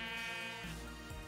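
A Minecraft sheep morph gives a single short, nasal bleat, clear and close, with no other sound behind it.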